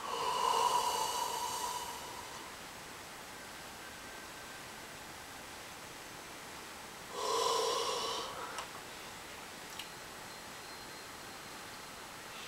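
A long breathy yawn during a yoga practice, heard twice as soft airy exhalations at the start and again past seven seconds, each fading into quiet hiss between them.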